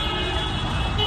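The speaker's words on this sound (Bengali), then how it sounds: "রাস্তায় অনেক জ্যাম" Dense street traffic jam in Dhaka near a bike workshop, steady loud engine rumble from cars, trucks and buses with a blaring car horn running continuously throughout.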